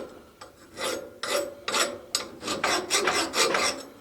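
Metal file rasping against a Jeep JK axle U-joint, a run of short scraping strokes that speed up into a steady back-and-forth rhythm, close and fairly loud with no talking.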